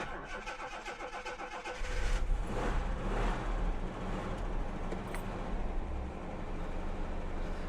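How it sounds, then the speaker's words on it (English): A Jaguar XJ6 Sovereign six-cylinder engine cranks with a steady starter rhythm for about two seconds, then catches and settles into a loud, close, continuous running note with no voices. "So the car starts fine enough, so there's no problem with the fuel pump."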